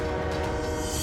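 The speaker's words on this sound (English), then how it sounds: "trapping the truck with a dash cam and a blue car on the tracks as a northbound train approaches." A northbound train sounds its horn on approach to a level crossing, a loud, sustained blast heard close up over the rolling rumble of rail cars.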